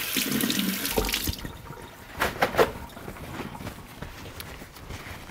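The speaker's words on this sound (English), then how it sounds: "I'm gonna rinse this little guy off again." A potato is rinsed under a running kitchen tap, with water splashing and shifting as it is turned in the hands, fairly close and moderately loud.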